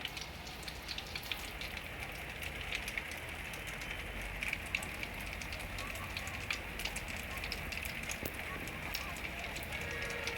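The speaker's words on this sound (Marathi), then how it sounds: "त्यामुळे आज पाऊस पडला बघा" Morning rain falls in Jammu as a soft, even patter with fine crackling drops, quiet and continuous throughout without pause.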